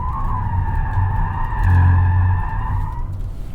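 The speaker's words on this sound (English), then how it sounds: "Going into oversteer." A 2022 Hyundai Ioniq 5 sliding into oversteer, its tires skidding with a steady squealing whine over a low road rumble that swells briefly in the middle, no talk.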